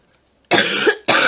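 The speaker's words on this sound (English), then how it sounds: "I got the coughs today" Two harsh coughs close up, the first longer and the second following after a brief pause, with near silence before them.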